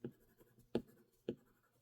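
Pastel stick strokes on paper while yellow flowers are drawn and shaded: three short, soft scratchy taps spaced about half a second apart, quiet and close, with no voices.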